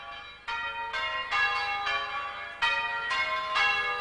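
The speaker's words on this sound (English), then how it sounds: "For years, the ringing of bells has been used to call people to church and to announce important events like weddings and funerals." Bells of Iken Church ring in a steady peal, each strike clear and resonant, overlapping with a sustained ringing tail, fairly close and loud with no voices.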